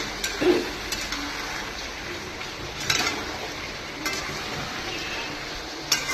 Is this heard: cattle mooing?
no